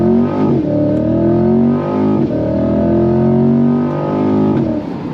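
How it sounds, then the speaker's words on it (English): A 2026 C8 Corvette Stingray Z51 launches hard under launch control, its engine roaring loud and close with pitch climbing steeply, then dropping briefly at each of several quick upshifts before climbing again. "Let me show you how to do launch control."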